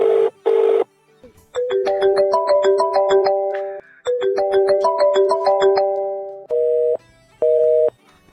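An electronic phone ringtone plays a repeating melodic tune twice, with short beeps before and after, loud and close with no talking.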